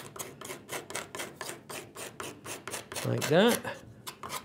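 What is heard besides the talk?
small scraper smoothing wooden saw handle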